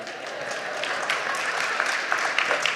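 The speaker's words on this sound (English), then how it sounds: "I appreciate the applause" Congregation applauding a reverend's sermon in church, steady dense clapping held at an even level throughout with no break.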